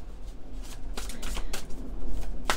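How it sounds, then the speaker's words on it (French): Oracle cards of angels, goddesses and gods are shuffled up close, giving a series of crisp riffling bursts and soft card slaps at an uneven rhythm, with no voice over them. "On va prendre quelques cartes de l'oracle des anges, des déesses et des dieux."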